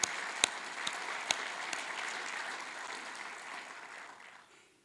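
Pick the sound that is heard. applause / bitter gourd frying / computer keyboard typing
applause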